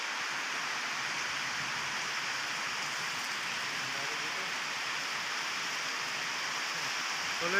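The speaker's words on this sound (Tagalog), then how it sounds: "Grabe ang lakas ng ulan dito sa Cavite." Heavy rain pours steadily in Silang, Cavite, a dense, constant hiss of downpour filling the whole stretch with no pauses and no voices.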